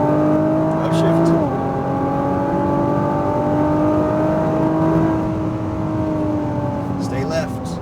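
A Nissan GT-R revving hard on a race track, a loud sustained engine drone that drops in pitch at a quick upshift then climbs again, close and continuous, with a voice talking over it.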